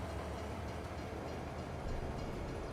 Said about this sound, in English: move the train forward to the next carriage